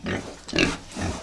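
Elite-breed piglets grunt in a few short, close bursts, rough snorting sounds in quick succession with no talking.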